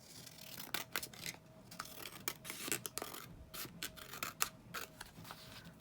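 Scissors trim the edge of a paper sheet for a junk journal, a brisk run of many close, crisp snips and paper rustles at a quick, uneven rhythm with no speech.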